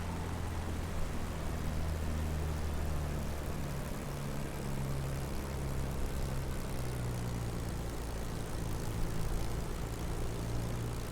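Spitfire aircraft taxiing on grass, a steady loud droning propeller engine rumble that stays close and continuous throughout.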